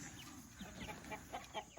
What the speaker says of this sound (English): Take a look at these here chickens.